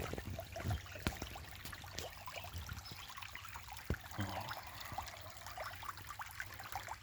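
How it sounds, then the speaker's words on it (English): Water flowing downhill over slippery rocks, a quiet continuous trickle and gurgle with occasional small splashes, heard faintly and alone. "Watching the water flow downhill."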